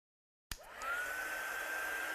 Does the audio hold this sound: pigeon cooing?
no